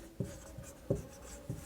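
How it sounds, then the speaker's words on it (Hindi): Handwriting during a computer class lesson, three faint, separate scratchy strokes spaced evenly about two thirds of a second apart, heard close and alone. "तो जैसे लिखता हूँ मैं"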